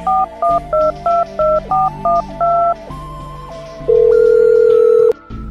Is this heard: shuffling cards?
no